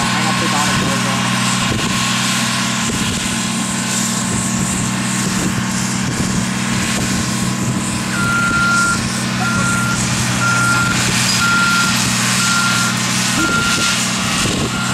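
A reversing tractor on a beach emits steady, evenly spaced backup beeps over a constant engine drone, heard from a moderate distance beneath ongoing talk and outdoor noise.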